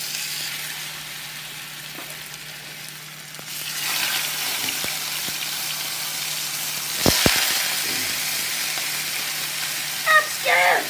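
Pork chops crusted with Fire Hot Cheetos searing in a hot pan give a steady, close sizzle, with a few sharp clinks and a swell of spattering partway through.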